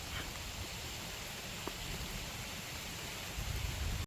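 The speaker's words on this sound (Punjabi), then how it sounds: "ਮੀਂਹ ਜਿਹੜਾ ਲਗਾਤਾਰ ਹੀ ਲੱਗ ਰਿਹਾ" Steady, soft monsoon rain hiss at Bhakra Dam continues without a break, faint and even, with a slight rise in low rumble near the end.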